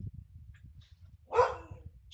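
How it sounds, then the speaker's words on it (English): Dogs indoors give a single loud bark partway through, then a short yip at the end, over low thumping background noise. "My dogs are going nuts."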